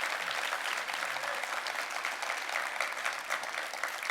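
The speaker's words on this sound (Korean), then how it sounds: "여러분 박수 부탁드립니다" Steady applause from a seated audience at a televised New Year town-hall forum with a city mayor, a dense, even wash of many hands clapping close and loud, continuing without pause for about four seconds.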